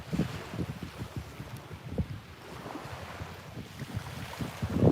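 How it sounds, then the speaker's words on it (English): Steady outdoor breeze by the water buffets the microphone in low gusty rumbles, continuous and fairly loud, with no talking. "that breeze feels really nice here"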